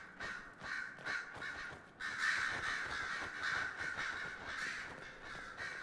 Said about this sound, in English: Calm down, birds.